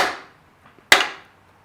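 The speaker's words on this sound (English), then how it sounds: "Let me get a rubber mallet." Two sharp, close strikes of a rubber mallet on an engine part, about a second apart, each with a quick decaying ring, the second louder than the first.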